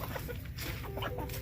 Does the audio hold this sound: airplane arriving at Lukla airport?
no